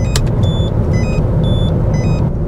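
A cheap, heavy Citroen C4 Picasso is driven with a loud, constant engine and road rumble inside the cabin, while a series of short electronic warning beeps chirp repeatedly over it.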